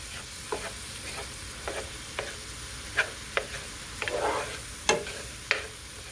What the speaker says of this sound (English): I've got my hamburger browning, pound of hamburger.